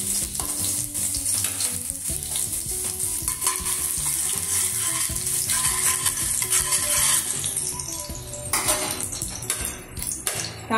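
Chopped garlic sizzles steadily in a hot pan while palak paneer is being cooked, with occasional utensil clinks and stirring scrapes over a continuous loud frying hiss.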